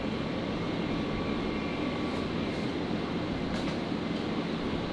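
A pink Alliance Airlines Fokker 70 jet in Breast Cancer Foundation livery arrives on runway 01 left at Brisbane airport, a steady broadband engine roar heard from a distance, continuous and even throughout.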